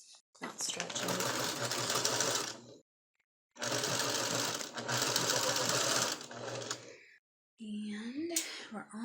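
Sewing machine stitching the lace bodice of a flower girl dress, running in two long loud bursts separated by a pause, with a short spoken remark near the end.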